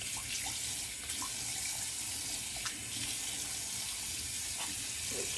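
Cold water runs steadily from a bathroom tap into a sink after a wet shave, a continuous close splashing gush with no talking.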